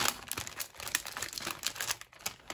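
Packing an order for shipment, a backing strip is peeled off with crackly, crinkling rips in short bursts, close by and fairly loud.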